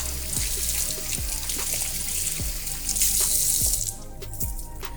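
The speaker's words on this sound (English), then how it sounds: "after I get done, I do have to wash my hands and get the seafood off." Running tap water pours steadily into a kitchen sink while hands are rinsed of seafood residue after peeling shrimp, a continuous close hiss with a few faint splashes and clatters, no talk.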